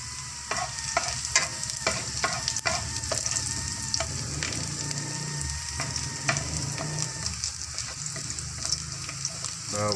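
Garlic sizzling in a small amount of cooking oil for pancit cabagan, a steady bright fry crackle with occasional stirring clicks and scrapes from the pan, close and continuous with no voices.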